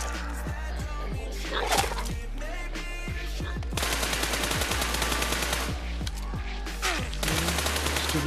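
Gunfire in the PUBG video game: rapid automatic bursts and single shots crack over a steady low engine-like drone, loud and close, with dense volleys in the second half.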